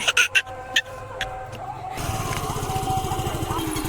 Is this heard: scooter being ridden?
yes